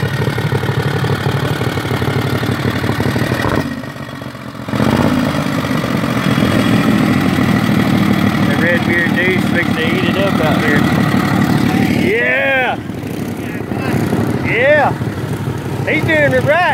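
A motorcycle engine drones steadily and loudly while the rider wheelies through mud, with brief dips in the roar and people talking and shouting over it.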